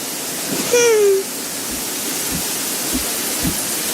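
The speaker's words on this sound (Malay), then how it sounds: "kenapa hujan?" Rain falls in a steady, even hiss that continues throughout, with a brief rising whistle-like tone early on and no speech.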